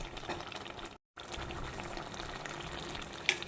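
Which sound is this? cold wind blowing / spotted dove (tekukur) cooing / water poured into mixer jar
water poured into mixer jar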